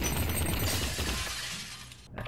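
Glass shatters in the VR game Vertigo Remastered, a loud, dense burst of breaking glass that fills the first second and a half, then fades into a crackling tail.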